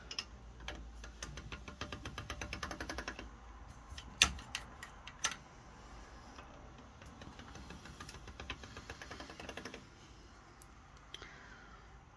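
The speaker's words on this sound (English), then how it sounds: "I'm just going to run this through my pasta machine" A pasta machine rolling a layered sheet of alcohol-ink craft material, giving a steady ticking, ratcheting mechanical whir with a few sharper clunks midway, close and moderately quiet.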